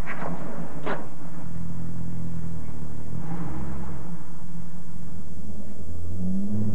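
A Pontiac with a bigger exhaust system idles and revs, a deep, loud engine rumble swelling and easing, heard close from inside or beside the car, with no talk.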